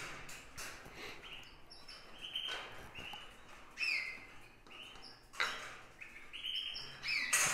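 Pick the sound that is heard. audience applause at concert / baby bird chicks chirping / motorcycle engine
baby bird chicks chirping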